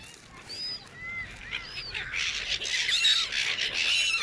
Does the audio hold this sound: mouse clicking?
no